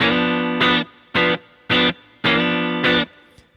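An effected, distorted electric guitar strums a chord in a quarter-note rhythm, sliding into each hit. Five loud, sustained stabs are separated by short gaps, with no other instruments.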